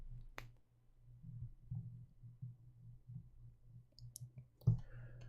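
A computer mouse clicks sharply and close up, once near the start and again near the end, over a faint low hum and quiet background.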